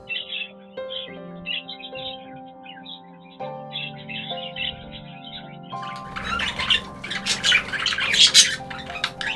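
Pet birds in an aviary nest squawk and chirp steadily, calls layered and fairly close, growing busier and louder toward the end.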